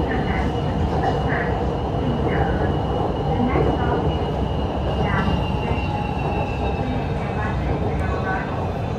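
A Hanoi metro Line 2A train rumbles along between Cat Linh and Lang, with a steady low roar and rattle from inside the carriage and faint wheel squeals. People talk over the train noise.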